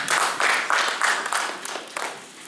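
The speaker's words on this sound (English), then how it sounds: "Let's give him another round of applause." An audience at an agriculture stakeholders' public-private dialogue claps for a speaker, loud and close, in short rhythmic bursts roughly three per second, as if clapping together in time.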